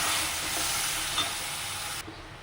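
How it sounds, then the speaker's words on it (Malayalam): Tomato, garlic and ginger paste fries in oil with a steady bright sizzle that drops sharply quieter near the end, close and continuous. "ഇനി ഇതിൽ എണ്ണ തെളിഞ്ഞ് വരുന്നത് വരെ നമ്മൾ ചെയ്ത് കൊടുക്കാം."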